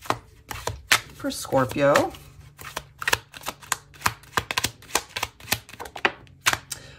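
Tarot cards being handled and laid down, a series of crisp taps, slaps and shuffling rustles in an irregular rhythm, close by, with a brief spoken phrase partway through.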